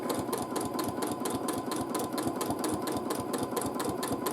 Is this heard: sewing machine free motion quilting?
yes